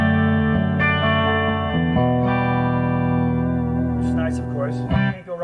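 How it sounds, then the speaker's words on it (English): Electric guitar played straight into a 1970 Fender Deluxe Reverb amp, sustained chords and bending notes ringing with reverb, clean and full, a short melodic phrase close and loud. "is just the Fender amp with the guitar itself."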